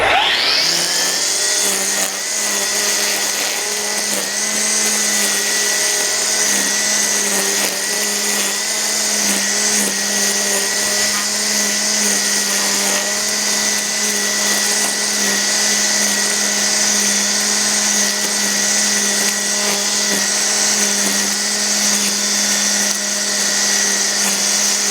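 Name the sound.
Ego multi-tool string trimmer trimming lawn edges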